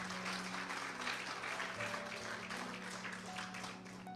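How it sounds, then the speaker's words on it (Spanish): A church congregation applauds in a steady, dense wash of clapping that sounds faint and somewhat distant, with a low hum underneath. "Denle un aplauso fuerte al Señor."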